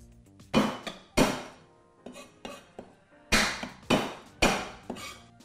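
A knife chops fresh ginger roughly on a cutting board, giving about nine sharp, close knocks at an uneven pace with short gaps between them.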